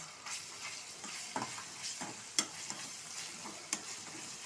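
Browned onion with ginger and garlic frying in a pan, a soft close sizzle under occasional spatula scrapes and a few sharp clinks against the pan.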